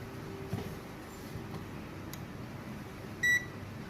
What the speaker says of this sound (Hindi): बीप आने लगेगी, क्योंकि वो बेल्ट आपस में उसको शॉर्ट कर रहा है